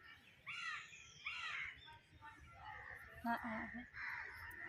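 Several crows caw nearby in short harsh bursts, one after another, with a person's voice briefly heard among them.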